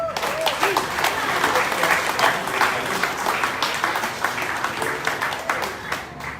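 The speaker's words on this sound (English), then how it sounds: "I ask that we all stand up and give a big round of applause" An audience at a political event where a lieutenant governor and a mayor announce a gubernatorial candidacy bursts into sustained applause, a dense wash of clapping that carries loudly throughout, with crowd voices mixed in.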